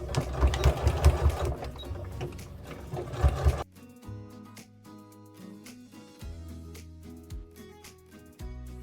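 A sewing machine stitches a row along the edge of a quilt's fabric, a fast mechanical rattle running for a few seconds at close range, then stopping and giving way to quieter sounds.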